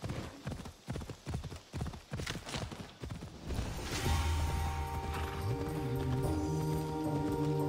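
Horse hooves clip-clop in Assassin's Creed Odyssey, a loud, close, rhythmic trot for the first few seconds, then a sustained in-game ambience and musical tones take over.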